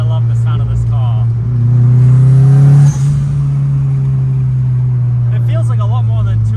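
The turbocharged engine of a 1992 VW Golf GTI Mk2 revs loud and close, its steady low drone swelling to a peak, dropping off sharply, then settling back into a sustained hum while people talk over it.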